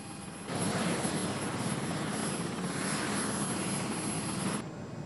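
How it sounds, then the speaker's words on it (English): Helicopter engine and rotor roar heard from inside the cabin, a loud, steady wash of noise that swells in after a moment and drops back near the end, with no talking. "Helicopter was very noisy."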